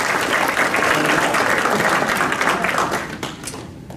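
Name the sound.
audience applause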